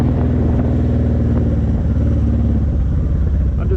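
A Honda VTX1800 motorcycle engine rumbles steadily with light throttle feathering, a continuous low drone under wind buffeting on the move, with no one speaking.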